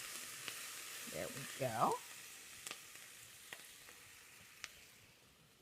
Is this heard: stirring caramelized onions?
yes